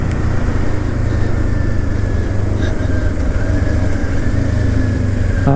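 Kawasaki motorcycle cruising steadily in 6th gear at 50 mph on a neighborhood road, a loud continuous engine drone with wind rumble holding an even pitch throughout, no voices.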